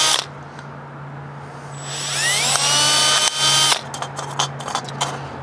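A power drill whines loudly as it bores holes into a thin aluminium pop can for a can stove, running in a sustained burst of a couple of seconds and then stopping, with faint clicks and handling noise after.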